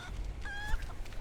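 A chicken in Resident Evil 4 lets out a single short, nasal squawk over a low background rumble.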